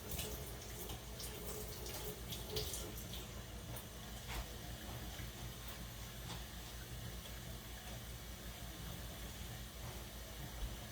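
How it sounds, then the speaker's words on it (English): Water running steadily from a kitchen tap, a continuous faint rushing flow with a low hum underneath and no talk. "I'm running some water"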